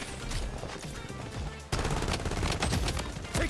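Rapid automatic gunfire in the shooter game Blood Strike, sharp repeated shots in fast bursts that grow louder and denser after a brief lull, with no talking.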